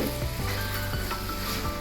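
Chana dal masala curry stirred in a hot pan, giving a loud, steady frying sizzle with soft scraping stirs throughout and no talking.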